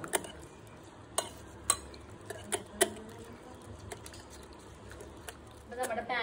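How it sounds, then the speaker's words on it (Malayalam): Eggs are whisked with coconut oil and salt in a bowl for a Kerala-style omelette. A utensil knocks against the side in sharp, irregular clicks over a quiet background, with someone talking. "അപ്പോൾ നമ്മൾ ഇനി എല്ലാം കൂടി നല്ലോണം മിക്സ് ചെയ്ത് കൊടുക്കാൻ പോകുകയാണ്"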